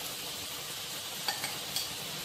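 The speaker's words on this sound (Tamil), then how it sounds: "இப்போ நல்லா ஒரு பாதி ஃப்ரை ஆயிடுச்சு, கடலப்பருப்பு வரமிளகாய் எல்லாமே." Chana dal and dried red chillies fry in oil with turmeric for tamarind rice, producing a quiet, even sizzle broken by a few light taps of a utensil.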